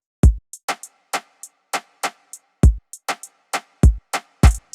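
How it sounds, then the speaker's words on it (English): An Afrobeats drum pattern built from a kick, closed hi-hat and snare loops in a bouncy syncopated rhythm, with deep kicks, crisp ticking hats and snappy snare hits, clear and close with no talk. "I started out with a basic 3-part drum section consisting of a kick, a close hi-hat, and a snare"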